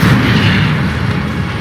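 Incendio fire spell cast in the Hogwarts Legacy video game: a loud, sustained, roaring blast of fiery noise filling the moment, steady and dense without any distinct pulses.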